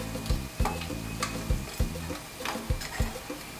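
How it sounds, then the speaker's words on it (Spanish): Tostadas frying in a wide, shallow frying pan, with a soft steady sizzle broken by repeated low thumps and clatters at regular intervals, close and fairly quiet, with no voices. "Y así frío mis tostadas"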